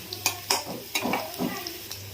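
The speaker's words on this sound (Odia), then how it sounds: "ଦେଖନ୍ତୁ ପିଆଜ ଆଉ ରସୁଣ ସବୁ ଭାଜି ହେଇଗଲାଣି" Onion and garlic fry in a pan with a soft sizzle, while a utensil stirs and scrapes against the metal in several sharp, close clinks and scrapes over about two seconds.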